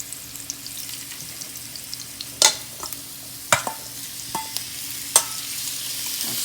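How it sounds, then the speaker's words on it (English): Shrimp sautéing in hot vegetable oil in a pan gives a steady, bright sizzle with a faint hum beneath and a few sharp clicks and scrapes of a utensil, close by and with no voices. "we've got our vegetable oil all heated up, and now I'm gonna add the shrimp. And we're gonna saute the shrimp for about 3 to 4 minutes"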